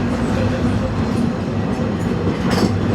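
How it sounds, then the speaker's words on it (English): A Walt Disney World Railroad train at Magic Kingdom rumbles along in a steady, loud, continuous drone of rolling rail cars, with faint clatter running through it and no voices. "welcome aboard the Walt Disney World Railroad"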